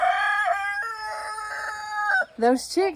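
A rooster crows loudly and close, one long drawn-out call that breaks off into a few shorter rising squawks at the end.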